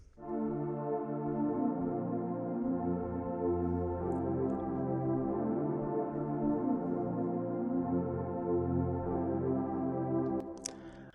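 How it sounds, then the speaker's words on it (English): A sustained synth pad from the Nexus plugin's Ambience Pad 3 preset plays steady, warm chords alone for about ten seconds, held at an even level with soft overtones before it cuts off. "the current preset I'm using is called Ambience Pad 3 under the pads category"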